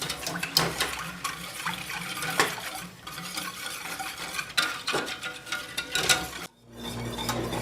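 A spoon whisks starch and sugar into milk in a pot for the pudding layer of a kadayif dessert, making continuous close swishing and scraping with brief clinks and one short pause near the end.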